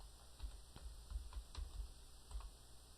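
Soft, steady typing on a computer keyboard, a run of light clicking keystrokes at an even pace, fairly quiet and close, with no voices.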